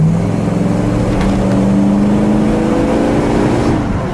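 A 1967 Buick Skylark GS 340 engine revs up under acceleration, a loud, close, steady drone whose pitch climbs smoothly over several seconds before levelling off, with no voices.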